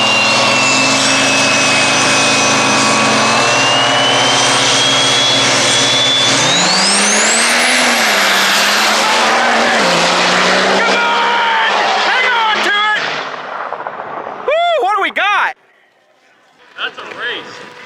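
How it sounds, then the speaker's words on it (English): Diesel trucks drag racing in the street class final at a drag strip event, engines roaring loud and rising in pitch as they accelerate past, then fading, with an announcer talking over the run and brief whooshes near the end. "John Morris in the flying diesel truck in the right lane."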